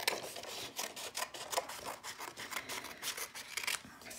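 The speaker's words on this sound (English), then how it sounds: "I'm just going to start by just trimming these guys." Scissors snip again and again as craft birch tree cutouts are trimmed, giving quick, close, fairly quiet crisp cuts in a steady rhythm with light paper rustling and no talking.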